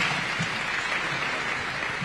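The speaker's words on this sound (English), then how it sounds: "A round of applause for our panel." Audience applause for a discussion panel at a public event, a dense steady burst of clapping throughout the short moment with no talk over it.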